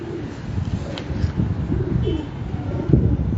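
Prized breeder pigeons cooing in soft, low repeated calls, close by against steady wind noise, with no talking.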